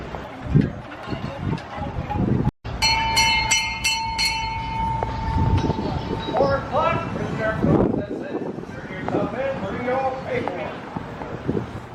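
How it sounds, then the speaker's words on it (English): A tour tram rolls past on a street in St. Augustine, Florida, with a rumbling ride, bright bell-like and horn-like tones ringing out midway, and voices talking throughout. "It's also where those tour trams come from."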